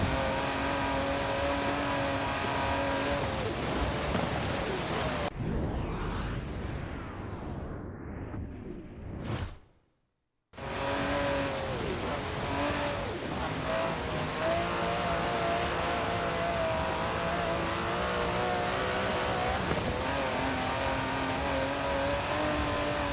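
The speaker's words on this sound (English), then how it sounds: "It's an Aston Martin." An Aston Martin DB11 drives in Forza Horizon 4, its engine note steady and loud with harmonic drone and revving, briefly dropping to a near-silent gap before the engine returns at full volume.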